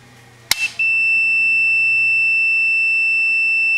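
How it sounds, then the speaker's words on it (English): A multimeter continuity test on a 1942 Gibson guitar amp: a sharp click is followed by a steady, high electronic tone that starts abruptly and holds loud and unbroken to the end. "The meter should beep, so let's check this out."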